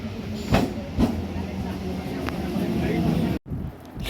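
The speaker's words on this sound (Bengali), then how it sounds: "এ তো ট্রেন আসছে, আমাদের ট্রেনটা আসছে" A train pulls into a station, a steady close rumble of wheels and carriages rolling past with rhythmic clanks, briefly cut off near the end before resuming, with people's voices faintly mixed in.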